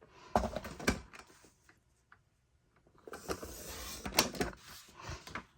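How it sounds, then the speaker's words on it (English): A 12-inch paper trimmer trims the edge of a paper craft piece, giving close, crisp clicks and a sliding cut in two short bursts separated by a brief quiet pause. "I've got a little edge there that I'm going to need to trim with my 12-inch trimmer."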